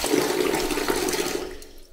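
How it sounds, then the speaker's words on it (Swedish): Water gushes steadily into a container in a stable, a full rushing pour that tapers off and stops near the end; close and loud, with no talking. "Nu ska jag ha vatten i det här."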